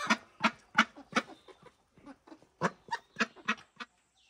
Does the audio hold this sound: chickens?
yes